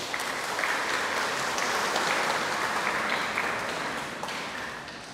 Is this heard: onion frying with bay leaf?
no